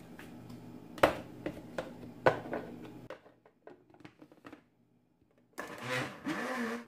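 A household blender whirring a mango and milk mixture, loud motor hum with clicks for the first three seconds, then stopping to near silence with faint clatter before the motor starts up again near the end.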